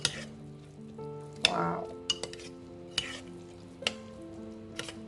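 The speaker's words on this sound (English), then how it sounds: "Stir well" A spoon stirs broccoli and carrot baby porridge in a pan, giving soft scraping and clinking strokes over a faint sizzle, with a brief spoken word.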